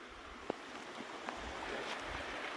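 A river on the Te Araroa Trail rushes steadily in a low, broad wash, mixed with faint wind and a few small knocks.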